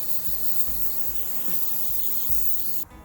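Spray adhesive hisses from an aerosol can onto a sagging car roof-lining, one steady continuous spray heard close, with faint rhythmic thumps underneath, no talk.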